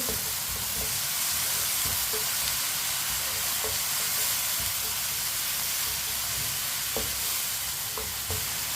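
Green chilies and tomatoes fry in a pan for aloo bhindi with a constant, close, loud sizzle, broken by faint clicks of stirring throughout, and no speech.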